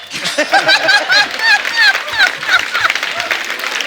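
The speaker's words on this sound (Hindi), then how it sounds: "ठोको ताली." A comedy television show's studio audience claps and laughs, dense continuous applause mixed with cheering and whoops, loud and close for a few seconds.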